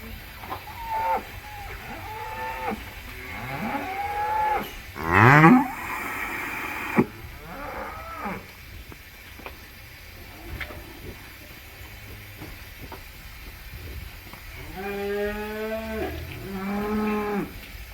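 Several dairy cows moo at intervals out at pasture, some long and drawn out, others shorter, with a loud low call near the middle and more lowing toward the end.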